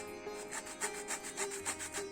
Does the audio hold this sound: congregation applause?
no